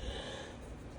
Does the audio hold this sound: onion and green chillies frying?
no